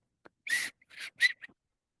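A small collectible whistle gives a few short, shrill toots in a quiet room, three or four brief bursts in under two seconds, close and fairly loud.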